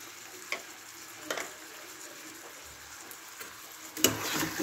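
A chilli prawn mixture with tomato sauce and green chilli paste sizzles quietly in a pan, with a steady low fry broken by several sharp scraping clinks of the spoon as it is stirred, louder near the end.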